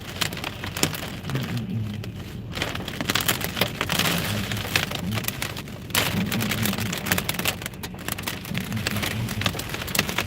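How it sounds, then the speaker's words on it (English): Pea-sized hail striking a car windshield during a storm chase in Illinois, a steady dense patter of small hard hits with rain-like texture, fairly close and continuous with slight swells in intensity, no voices. "Pea-sized hail, but not a lot right now."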